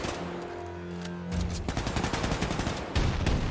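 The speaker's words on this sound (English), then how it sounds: "I didn't mean to shoot, but I might as well commit to the shooting" Rapid, loud gunfire in the first-person shooter Wolfenstein II: The New Colossus, a dense burst of close shots after a low humming hold, with heavier blasts near the end and no talk.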